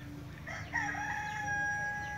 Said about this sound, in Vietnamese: bởi vì nghe tiếng gà gái